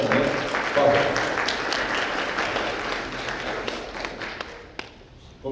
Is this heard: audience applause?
yes